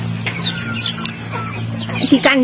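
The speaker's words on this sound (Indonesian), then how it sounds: "inilah ayam-ayam Bu Tete yang ada di kandang" Month-old chickens cluck and chirp inside a clean new coop, with short overlapping calls and a louder burst near the end over a steady low hum.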